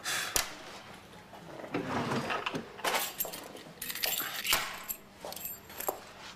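A set of office keys jangling, several bright metallic rattles and clinks in irregular bursts, close by in a quiet indoor setting.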